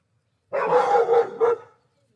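Dog barking at a mail carrier, a single close, loud, drawn-out bark or howl-like yelp that rises and breaks into two or three pulses before stopping.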